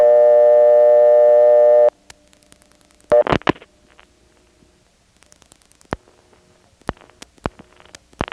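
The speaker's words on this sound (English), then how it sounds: "you'll hear the reorder come up to full volume" A steady, loud, buzzing reorder tone from a 1977 step-by-step telephone exchange in Wilson, North Carolina cuts off abruptly. Sharp clicks and relay clatters from the switching equipment follow, scattered across the remaining seconds.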